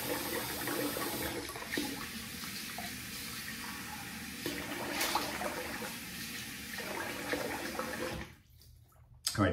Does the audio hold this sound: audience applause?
no